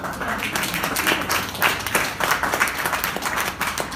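An audience at a political event in Manistee claps steadily in dense, continuous applause that fills the room, with a few voices faintly beneath it.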